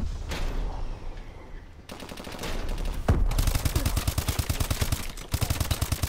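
Sustained automatic gunfire in Call of Duty: Advanced Warfare, rapid dense bursts rattling almost without break, loud and close, with a short pause before the firing resumes.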